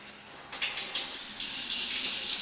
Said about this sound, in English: I'm gonna have to run some water here in the sink.